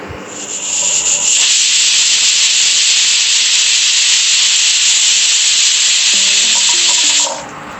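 A pressure cooker holding mutton korma lets out its whistle on a high flame: a loud, sustained, piercing steam hiss that builds quickly, holds steady for about six seconds, then cuts off.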